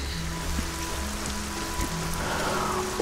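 Steady rain falling in the fantasy video game Arcania, a constant soft hiss of drops on a surface with faint low tones and blips of game sound underneath, no voices.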